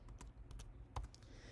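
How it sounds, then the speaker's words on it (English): Quiet, sparse keystrokes on a computer keyboard while a search term is entered in a code editor, a few soft clicks heard close and alone. "I'm going to start typing out CodeLens."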